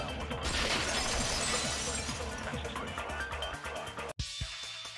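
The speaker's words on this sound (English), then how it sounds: "If it wasn't the window, then what broke to make that sound? A vase." A vase shattering in the Danganronpa 2 video game, a loud sustained crash of breaking ceramic over dense game music, cutting off abruptly near the end.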